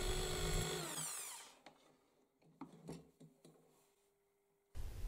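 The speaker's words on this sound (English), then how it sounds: "I use the large diameter drill to create a blind hole that the large central screw sinks into." A large-diameter power drill whines loudly as it bores a blind hole into a wooden board, winding down to quiet clicks and handling noises before the motor starts again.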